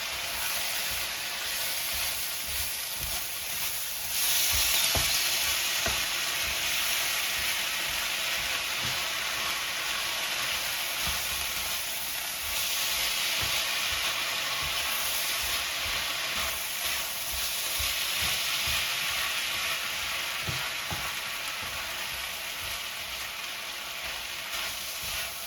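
Ground beef stir fry in a thickening sauce bubbling and sizzling in a pan, a dense continuous hiss with frequent stirring scrapes and taps, close and steady throughout without speech.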